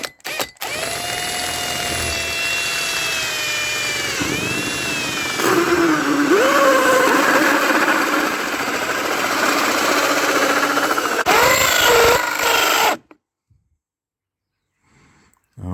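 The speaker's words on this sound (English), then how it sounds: "I'm thinking we're going to drill a hole through the side." A power drill bores a hole through the timber side wall of a caravan, whining loudly and steadily with pitch dips as it bites. It grinds on for about thirteen seconds, then stops abruptly into near silence.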